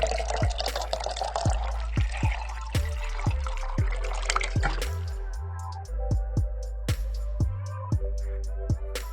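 Water splashes and trickles into a pressure cooker holding washed moong dal, with scattered clinks and drips through the pour, fairly close and steady.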